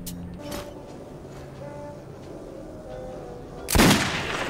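A single sharp gunshot in Metro 2033, loud and close, bursting out near the end after a stretch of quieter game ambience and tonal background sound.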